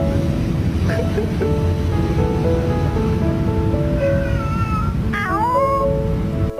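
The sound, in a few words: person imitating cat sounds to a cat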